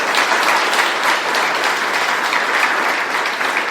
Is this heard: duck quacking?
no